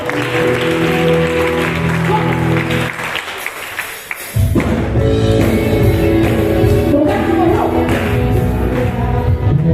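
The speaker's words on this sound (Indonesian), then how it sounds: "Kasih tepuk tangan yang panas Bapak." A church congregation gives warm applause over music that keeps playing beneath it. The clapping drops briefly, then swells again, loud and full.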